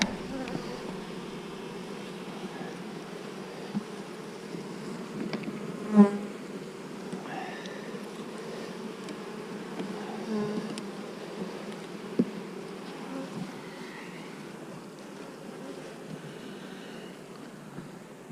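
Honey bees hum steadily in a dense, low buzz all around during a hive inspection while frames are pulled, the drone continuous and close with a few brief knocks.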